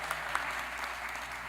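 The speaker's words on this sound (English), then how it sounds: "Yeah, round of applause." Applause from the audience at a school district governing board meeting, a steady, dense patter of clapping filling the short stretch with no voices over it.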